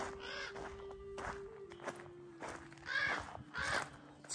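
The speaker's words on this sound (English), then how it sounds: "I know that these crows are just pissed off that I'm here." Crows cawing near a volcanic tableland petroglyph site in California, harsh calls repeating in bursts over a steady low hum, with a few footsteps mixed in.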